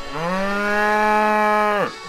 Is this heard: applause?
no